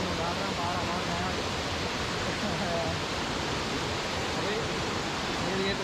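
Water of a stream rushes steadily through forest above a waterfall, a continuous broadband wash heard alone without a break.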